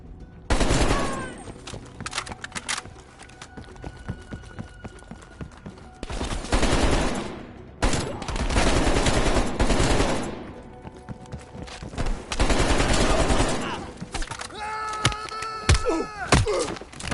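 Gunfire in the Call of Duty Cold War campaign: loud bursts of automatic fire in several long volleys with brief lulls between, ending in a scattering of sharper shots and metallic ringing.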